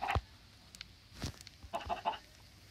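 A young, not fully grown chicken gives a few short, separate clucks and peeps, near and fairly soft, spaced out over a quiet background.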